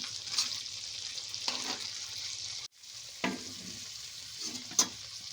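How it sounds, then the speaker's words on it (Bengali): Prawns frying briefly in hot oil in a pan, a soft steady sizzle broken by a few sharp crackles and spits, with a short gap midway, no voices. "চিংড়িগুলোকে আমরা মাত্র 30 সেকেন্ড আমরা ভাজবো"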